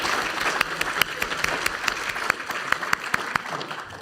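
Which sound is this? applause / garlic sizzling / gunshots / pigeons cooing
applause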